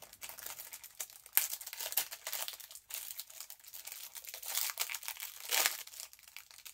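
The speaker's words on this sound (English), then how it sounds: "Let's open it up." Plastic packaging around a three-piece set of hair clips is pulled open, giving quiet, irregular crinkling and crackling with a few sharper tearing bursts, close and alone with no talk.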